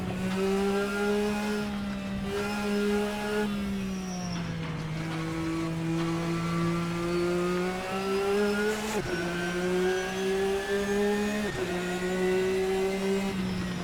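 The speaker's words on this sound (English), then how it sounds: "here is the Darsh 96, which we of course know as the Porsche 996" A Porsche 996 racing car engine revs and drones steadily in a sim racing game, loud and continuous, with a few brief dips between gears.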